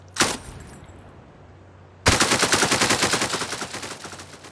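Automatic AK fire in a video game: one sharp shot, a short lull, then a long loud burst of evenly spaced rounds that fades slightly toward the end.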